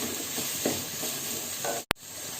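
Ingredients for chicken fried rice, salted, are sautéed in a hot pan. A steady close sizzle and hiss runs throughout, with a few stirring scrapes and a sharp clack near the end.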